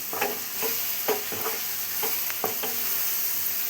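A spatula stirs an amaranth leaf fry with lentils, coconut and salt in a pan, giving repeated scraping strokes about twice a second over a soft, steady sizzle; no talking.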